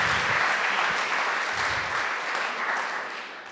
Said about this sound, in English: Can we please get another round of applause for Kyle?